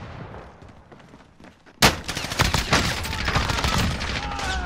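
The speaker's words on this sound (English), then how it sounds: "Oh, she's shooting at me." Sudden close gunfire in the video game Warzone: after a quieter stretch, a sharp burst erupts into sustained rapid shots and crackling, loud and dense to the end.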